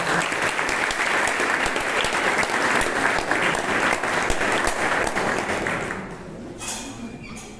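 Seminar audience at an academic physical activity event giving a round of applause, steady clapping for about six seconds before it thins and fades out.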